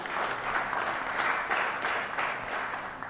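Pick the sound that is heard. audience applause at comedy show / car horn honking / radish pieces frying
audience applause at comedy show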